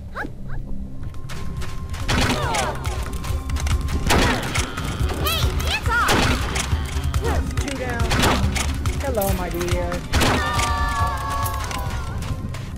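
Repeated shots from a special gun in the Onirism video game thump at regular intervals over steady game noise, with growls and creature cries mixed in and a player talking throughout.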